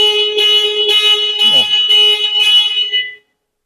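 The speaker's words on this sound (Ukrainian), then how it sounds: "Штатна сигналізація сработала" A Suzuki Swift's factory car alarm sounds in a steady repeating pattern of tonal beeps, loud and close, for about three seconds before stopping abruptly.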